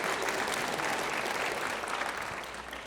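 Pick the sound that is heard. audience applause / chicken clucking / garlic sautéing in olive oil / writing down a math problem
audience applause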